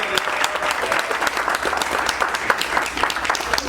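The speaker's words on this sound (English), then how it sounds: "Let's clap it up for Pastor Wendell Jones." Audience applause for Pastor Wendell Jones at a Black History brunch rolls on steadily, with many hands clapping at close range and a few sharper individual claps standing out.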